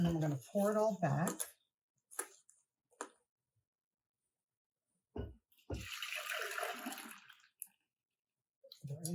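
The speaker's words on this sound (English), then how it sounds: "And then we're going to pour it all back." A brief pour of coconut cream pie filling splashing back into a pot, a few seconds long, between short bits of talking and a couple of light clunks.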